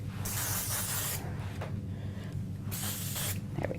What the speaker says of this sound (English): we're going to give this a bit of spray on the back